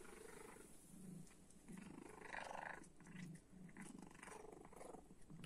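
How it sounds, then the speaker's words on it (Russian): A cat purrs while eating breakfast sausages, a close, continuous rumbling purr mixed with soft chewing and wet mouth sounds, steady throughout with no talking. "Мурлычет."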